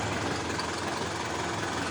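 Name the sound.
Isuzu 4HG1 engine of a 4x4 mini dump truck running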